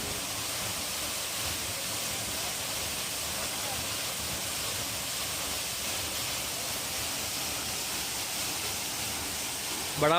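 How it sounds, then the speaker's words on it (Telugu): Rampa Waterfalls pours with a steady, continuous rush of water, an even broadband roar lasting throughout without pause. "బడా వాటర్ ఫాల్ మామూలుగా."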